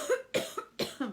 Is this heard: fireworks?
no